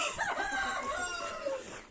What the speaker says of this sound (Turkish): Ha bu tavuk içeride kaldı.